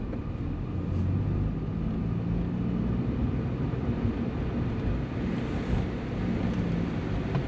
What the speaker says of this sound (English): I like to engage the sport exhaust button right away